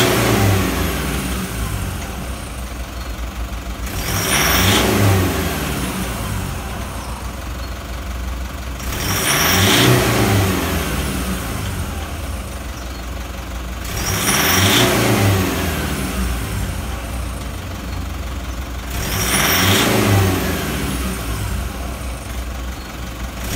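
A car engine in a workshop, showing a P1601 fault during a throttle pilot learn, idles and is revved sharply four times at steady intervals. Each quick rev falls back to idle.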